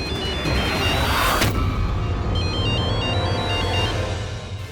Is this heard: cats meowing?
no